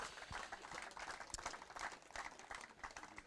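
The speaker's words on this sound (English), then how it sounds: "Round of applause for our 2nd place" A crowd at a bass fishing tournament weigh-in applauds the second-place angler with steady, dense clapping at moderate distance that holds evenly throughout, with a few sharper individual claps standing out.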